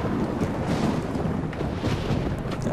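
Thunderstorm in Assassin's Creed Revelations: a dense, continuous low rumble with rushing wind-like roar, loud and unbroken throughout.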